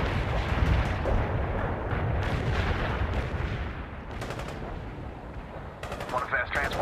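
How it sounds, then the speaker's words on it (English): Artillery fire in World in Conflict rumbles in dense, overlapping blasts and booms, with rapid gunfire crackling on top as a continuous loud battle din. "That artillery is closing in."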